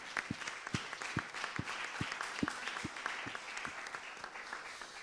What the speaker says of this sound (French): Je pense qu'on peut applaudir parce que c'est pas facile non plus.